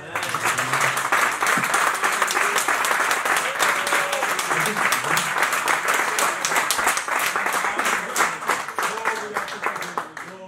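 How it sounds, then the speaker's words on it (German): A congregation at a fasting-days gathering breaks into loud, sustained applause lasting the full stretch, with dense clapping that tapers slightly toward the end and a few voices mixed in. "Aber kann man doch wirklich einen kräftigen Applaus machen, dem Besten."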